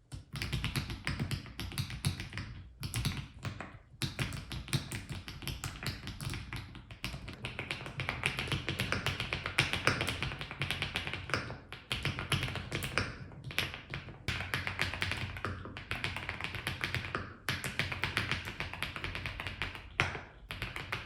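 Steady, fast clacking of RS8 mechanical keyboard keys, comparing Pink Cheese, Taeguk and Mokseol switches, close and continuous with brief pauses, crisp tapping strokes throughout.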